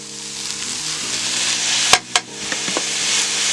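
Chopped vegetables and minced garlic sizzle in a pan for a Cajun shrimp and andouille pasta, a steady frying hiss with a low hum underneath, broken by two sharp clacks near the middle and a few lighter taps.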